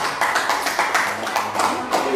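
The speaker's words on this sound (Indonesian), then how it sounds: "Beri tepuk tangan dulu untuk Rara." Schoolchildren in a classroom clap for a classmate, producing a short burst of quick, fairly even hand claps that are close and dense, with no talking over them.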